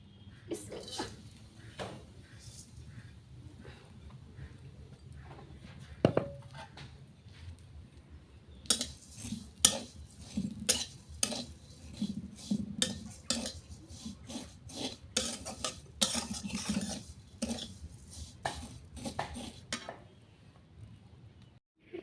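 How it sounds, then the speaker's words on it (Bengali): Semai vermicelli fries in homemade ghee in a wok. A utensil scrapes and clatters against the pan in repeated sharp strokes over a soft frying hiss, and the stirring grows busier in the second half. "ঘি দিয়ে সেমাইটাকে আগে ভেজে নেব।"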